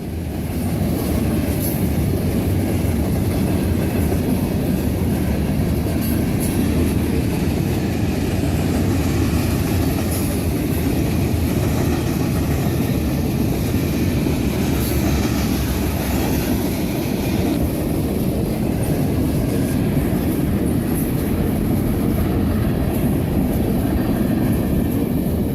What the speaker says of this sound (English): crossed Main Street with a manifest freight